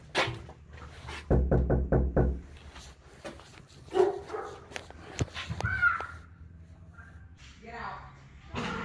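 Dogs inside a house give a burst of barks and yips, along with a quick run of knocks, fairly close and loud, while people talk intermittently around them.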